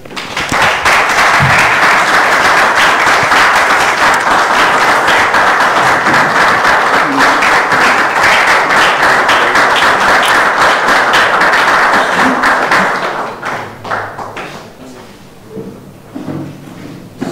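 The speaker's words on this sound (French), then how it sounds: "C'est pas assez nourri comme applaudissement" Sustained applause from a political rally audience, dense and loud for about twelve seconds before fading into scattered claps and room noise.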